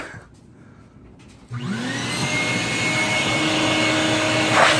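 A small vacuum suction tool switches on partway through and runs with a steady, loud whine and rising pitch, close by, during cleanup of a GY6 scooter light housing.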